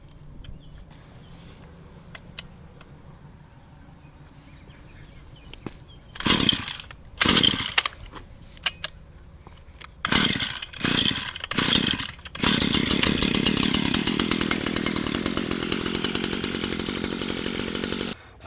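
A Stihl FS 56 RC residential string trimmer with easy start and choke gets several sharp rope pulls that sputter without catching, then the engine fires and runs steadily, loud and close, for the last several seconds.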